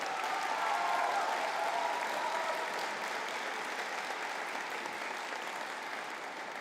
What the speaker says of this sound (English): may I ask that we have a collective round of applause